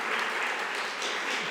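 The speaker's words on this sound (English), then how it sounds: "A round of applause to the fresh people in the audience." Applause from a conference forum audience: dense, even clapping from many hands, fairly loud and continuous over a short stretch, with no speech over it.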